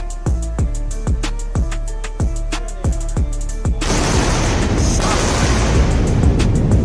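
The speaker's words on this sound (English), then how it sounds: "Double sonic booms." Two returning rocket boosters create a rapid series of deep, sharp booms that repeat in a steady rhythm. After that comes a sustained loud rumbling roar.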